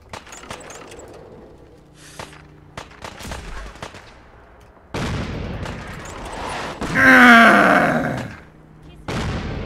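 Artillery blasts and gunfire from the video game Fallout 4: a fairly steady string of sharp shots and bursts, then a heavier, louder roaring barrage near the end, fairly close and prominent.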